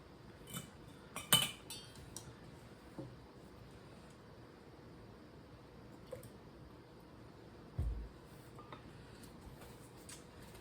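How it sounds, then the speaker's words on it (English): A spatula scrapes roasted salsa verde out of a pot for water-bath canning, quiet intermittent scrapes and sharp clinks against the metal and glass, with a few louder knocks spaced through an otherwise hushed kitchen. "let's just scrape everything out and let's get as much as we can"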